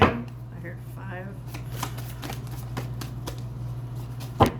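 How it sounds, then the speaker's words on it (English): Tarot cards riffle and snap as they are shuffled, a steady soft patter of flicks with a sharper tap near the end, close up. "After I shuffle, I'm going to lay the cards down"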